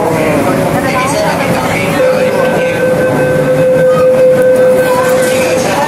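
A passenger train ride at Ocean Park, Hong Kong, heard from on board as a loud, steady rumble and rattle of the carriages, with a sustained tonal whine and voices in the background.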